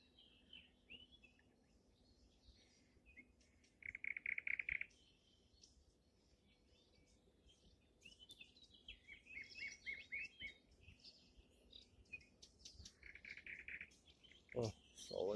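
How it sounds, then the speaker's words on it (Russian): A Eurasian blackcap sings in short, bright, warbling phrases against quiet outdoor background hiss, with fainter birdsong and insect chirps scattered around and a sharper call near the end. "Черноголовая славка."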